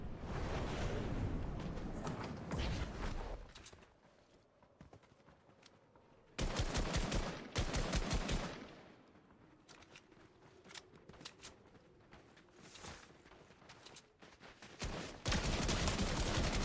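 Gunfire in the Fortnite battle royale game, loud blasts arriving in bursts separated by quieter gaps, with several heavy shots clustered near the start, middle and end.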